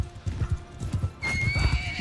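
Horse galloping in the medieval combat game Mount & Blade II Bannerlord, rapid rhythmic hoofbeats pounding close by, joined midway by a whinny, with faint in-game noise in the background.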